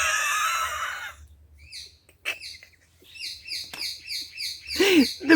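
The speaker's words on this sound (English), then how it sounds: "The bird is laughing." Chirping bird calls repeat through the middle of the clip as short, bright, fairly close tweets in an irregular series, with a brief squawk near the end; a louder broadband rustle opens it, and no one speaks.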